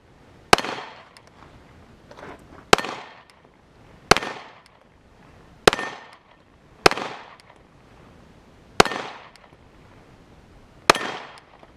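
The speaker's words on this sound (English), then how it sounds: "what was that, like 7, 8 shots?" Seven sharp gunshots from a Canik TP9SFX pistol fired on a range, evenly spaced about every one to one and a half seconds, each a loud crack with a short decaying tail, with no talking.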